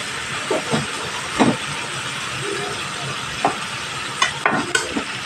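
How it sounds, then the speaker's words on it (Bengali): Fried potato and pointed gourd pieces tipped into hot masala in oil, giving a steady sizzle and hiss with several clattering stirs and scrapes of a spatula against the pan. "এখানে আলু আর পটলটা যে ভেজে রেখেছিলাম এখানে আমি এই পর্যায়ে এসে দিয়ে দেবো"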